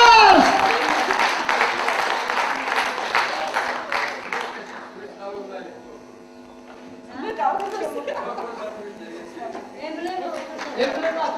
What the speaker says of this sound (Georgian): აპლოდისმენტები თაობას.